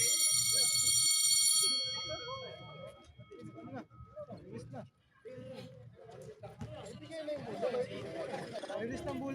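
At a neighborhood basketball league game, a loud, steady electronic buzzer sounds for under two seconds at the start, followed by crowd chatter and voices.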